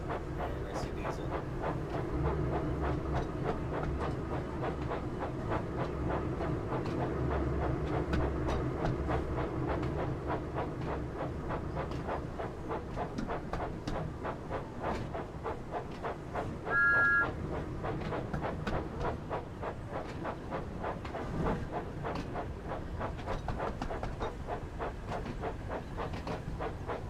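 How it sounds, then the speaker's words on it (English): A long train in the Thomas & Friends add-on for the railway simulator game Train Sim 5 rolls along the track with a steady, even clickety-clack rhythm and a low rumble, continuous and unbroken with no talk. "Man, that's a long train."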